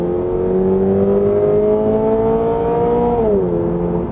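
A Subaru BRZ / Toyota GR86 prototype engine holds a steady high rev that climbs slowly, then drops sharply near the end at a circuit; loud, close and continuous with no talking.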